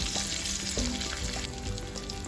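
Crushed ginger garlic paste hits hot oil in a pan for biryani, producing a loud, dense, continuous frying sizzle that stays close and steady.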